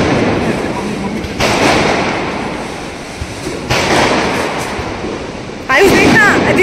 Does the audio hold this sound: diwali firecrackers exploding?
yes